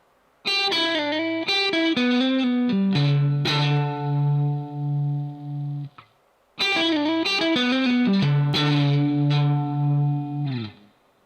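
Distorted electric guitar plays a quick lick of picked notes ending on a long sustained note, then the phrase repeats.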